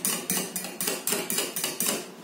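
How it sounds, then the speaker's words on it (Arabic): A spoon or whisk beating soft cream cheese or yogurt in a bowl, a steady series of about nine sharp clinking strokes against the bowl's side, close and alone with no talk. "غنجيب نزيد الجبن الطري ديالي ولا ياغورت اللي تفضلوا. نخلط جيدا"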